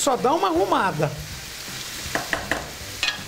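Chicken pieces fry in a pan for a squash and chicken gratin, a steady close sizzle with a few light scraping stirs, under a woman's speech at the start.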